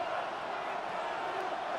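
A dense football stadium crowd roars and cheers steadily during an NFL Chargers game, a broad continuous wash of noise without pauses.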